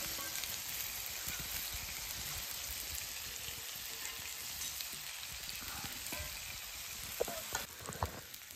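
Chicken pieces fry on a clay roof tile for a Konkan-style dish, giving off a steady crackling sizzle throughout, with a few sharper pops and scrapes near the end as the pieces are turned.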